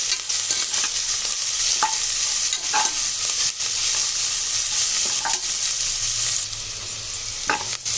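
Onions with salt sautéing in a pan for chicken curry, a loud steady sizzle throughout with occasional spatula scrapes and clicks, close and without talk.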